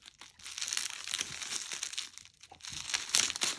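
Close bubble wrap crinkling and crumpling, irregular rustles and crackles rising and falling as packaging is handled.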